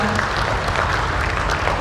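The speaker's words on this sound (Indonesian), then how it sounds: "Boleh saya minta tepuk tangan sekali lagi untuk beliau." Applause from the audience at an Indonesian government award ceremony, a brief dense wash of continuous clapping at steady loudness.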